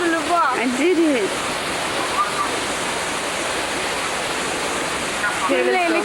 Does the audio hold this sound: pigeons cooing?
no